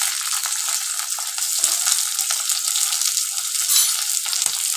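Onions sizzle and fry in hot oil in a pan for red lentil tarka, a steady close crackling hiss with small stirring scrapes, no voices over it.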